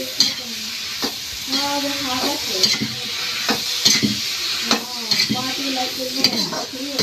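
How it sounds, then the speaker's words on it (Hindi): Masala with potatoes and tomatoes sizzles in a pan while a utensil stirs and scrapes against the metal in repeated strokes, close and fairly loud, with the frying hiss running underneath throughout. "तो ये मसाला मेरा पक रहा है"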